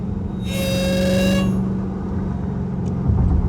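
A stock Dodge Hellcat's supercharger gives a loud, rising whine over the revving engine for about a second, then falls away to a steady low idle rumble.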